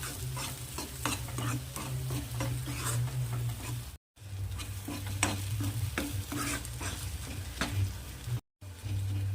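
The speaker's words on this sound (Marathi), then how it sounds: "एक टोमॅटो बारीक चिरून याला पण छान असं परतून घ्यायचं आहे" Finely chopped tomato is stirred and sautéed in a pan for a pumpkin vegetable curry, giving a continuous soft sizzle with repeated scraping stir strokes close by.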